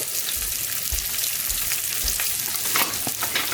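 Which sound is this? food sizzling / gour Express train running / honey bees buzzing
food sizzling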